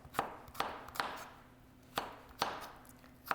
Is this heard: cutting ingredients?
yes